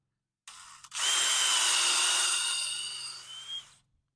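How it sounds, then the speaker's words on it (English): A power drill bores into concrete steadily for about three seconds, a high whining grind that starts abruptly after a brief tap and tapers off near the end. "I drill a hole"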